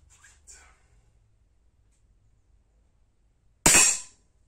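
A single sharp report from a Beeman P17 4.5mm air pistol, a loud close crack with quick decay after a few faint handling sounds.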